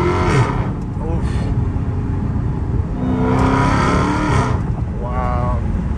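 Dodge Hellcat Redeye engine roaring loudly from inside the cabin as the car accelerates hard, the pitch climbing and dropping through shifts, with a voice briefly over it.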